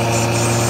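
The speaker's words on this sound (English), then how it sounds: "The blower while the machine is running right here." A machine with a blower running at a steady idle, a continuous even mechanical drone with low engine rumble, close and loud with no variation.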